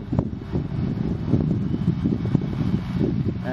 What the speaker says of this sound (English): Today it's a little bit windy